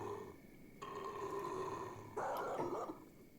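A dog in the Kenshi game gives harsh growling barks in three bursts, the last loudest and rough, over a faint low background.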